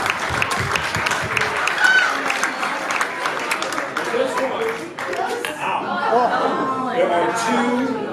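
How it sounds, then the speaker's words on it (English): An audience at a magic show in the Chicago Magic Lounge breaks into applause with chatter and chuckles mixed in, the clapping fading as a voice talks over the room. "Give it up for a big round of applause for herself."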